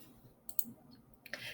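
A computer mouse gives a few quiet, crisp clicks, spaced apart, close and faint against a near-silent room.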